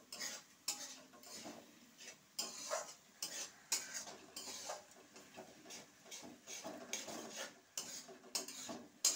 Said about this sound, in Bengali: দইটা দিয়ে আবার একটু কিছুক্ষণ নাড়িয়ে নেব।